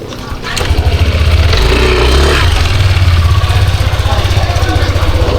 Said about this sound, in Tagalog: Ano yung motor yan?